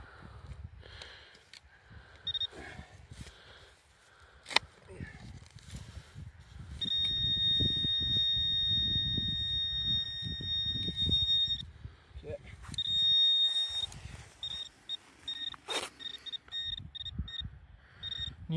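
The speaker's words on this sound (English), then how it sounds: "But why don't I show you what I've been finding with this awesome detector?" A Makro Racer 2 metal detector gives short target beeps and then long, sustained high-pitched tones, with scraping handling noises and faint, indistinct voices in the background.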